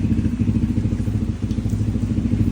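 A Yamaha Mio scooter with a DOHC 4-valve 250cc engine idles outdoors during tuning in the rain, a loud steady low throb with a pulsing rhythm, light rain patter faintly behind it.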